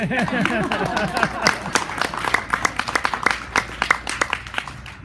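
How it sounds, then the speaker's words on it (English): At a book release reading, an audience gives another round of applause: a voice speaks briefly at the start, then scattered hand claps follow, loosening into sparse individual claps that thin out toward the end. "How about another round of applause?"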